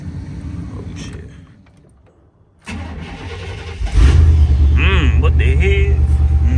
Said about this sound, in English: I need to start my truck up in a little minute.